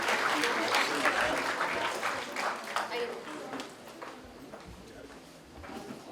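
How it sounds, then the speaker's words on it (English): Enthusiastic audience applause at a national moot court competition valedictory award ceremony, a dense round of clapping that swells and then gradually tapers off over about six seconds in a hall. "May we have a big round of applause again?"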